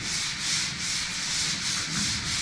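Hand sanding of sheet metal on a Dodge D150 truck body, close rhythmic back-and-forth scraping strokes, about four even passes, loud and alone.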